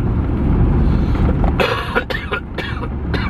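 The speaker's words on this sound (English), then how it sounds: "I have got a bit of a cough" Several harsh coughs burst out in a quick cluster, close and loud, over a steady low rumble of background noise from a car driving along a road.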